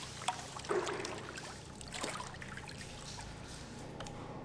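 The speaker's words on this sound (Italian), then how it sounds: "Heidi li risciacqua in acqua salata." Fish fillets are rinsed in salt water on the island of Suduroy, giving a faint, steady trickle and slosh of water with a few soft splashes, heard up close at low volume.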